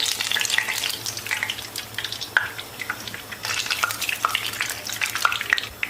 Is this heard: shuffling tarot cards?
no